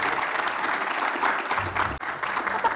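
A steady burst of clapping from a crowd fills the whole moment, dense and continuous at moderate loudness.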